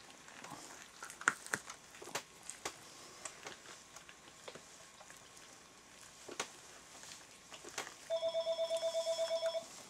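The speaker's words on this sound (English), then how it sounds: "Where's the phone?" An electronic telephone ringtone trills in a rapid pulsed burst near the end, loud and close, after a stretch of scattered handling clicks and taps during work on a coyote hide in a taxidermy workshop.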